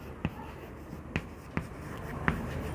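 Writing on a board during a maths classroom lecture: four short, scratchy strokes spaced a second or so apart over faint room noise.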